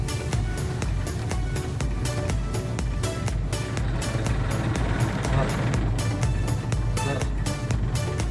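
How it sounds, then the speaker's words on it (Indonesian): A small Daihatsu Ayla 1000 car engine, recently decarbonized, held at a steady hum while revved gently, its low drone continuous and close, with someone speaking over it. "Coba digas pelan-pelan."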